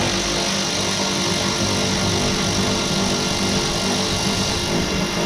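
A cordless drill on a 2025 Ram 3500 Limited removing mudflap screws with a low battery, a steady loud whirring drone that runs for several seconds without talk.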